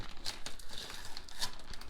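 Tape and plastic packaging are peeled and crinkled off the electronics of a Traxxas Slash RC car kit, a quiet, close run of crackling and tearing rustles with no talk.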